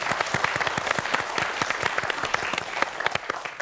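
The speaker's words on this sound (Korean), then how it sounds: "박수 부탁드리겠습니다." A studio audience at a televised science-and-magic lecture applauds steadily, dense overlapping claps filling the room at a close, even level with no voices over them.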